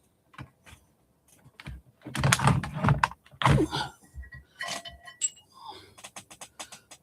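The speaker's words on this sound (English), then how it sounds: "let's move my keyboard over" Computer keyboard shifted across a desk during an electronics teardown session, giving a string of close, sharp clacks and thunks with scattered taps and scrapes, busiest in the middle and tapering into lighter clicks.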